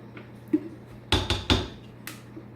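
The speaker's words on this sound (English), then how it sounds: "I'm going to wipe my spoon off here." A spoon knocked against the rim of a crock pot to shake off coconut oil while making soap: a few sharp close metallic clanks, two loud taps in quick succession, with quieter knocks around them.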